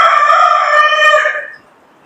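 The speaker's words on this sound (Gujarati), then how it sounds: "કુકડા બોલ્યા કુકડા" A rooster crows once, loud and close, in a bright drawn-out call that fades away over its last half second.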